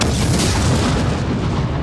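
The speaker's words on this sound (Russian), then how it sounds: "30 сентября 1943 года в Ровно прозвучал взрыв." An explosion in a war film set in Rovno in 1943 makes a loud, broad rumbling blast that fills the whole short moment with no voices.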